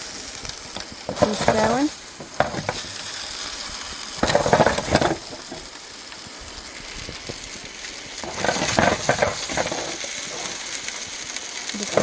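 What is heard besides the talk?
food sizzling in a pan while camping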